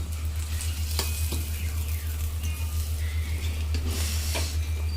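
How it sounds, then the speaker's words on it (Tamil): Chicken green biryani sizzles loudly in a pot while being stirred from the bottom, a constant close frying hiss over a low steady hum, broken by scraping spoon strokes and occasional clinks. "நல்லா அடியிலேருந்து நல்லா கிளறி விடணும்"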